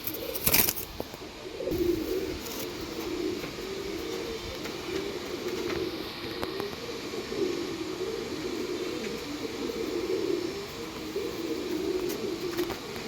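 A pair of red-headed pigeons giving soft, repeated coos at moderate distance, low and murmuring against a faint ambient background with occasional clicks.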